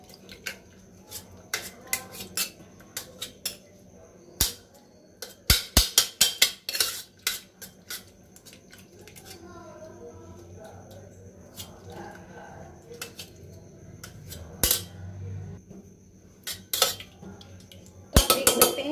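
A utensil mashes soft cooked food in a metal pressure cooker, with irregular sharp clinks and scrapes against the sides, some in quick bursts, under quiet background noise.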